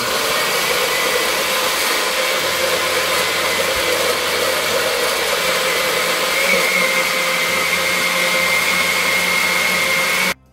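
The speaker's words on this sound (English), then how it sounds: "And it's time to blend." A countertop blender runs loud and steady on Haitian epis seasoning with olive oil, a close whirring motor roar with shifting pitch that cuts off abruptly at the end.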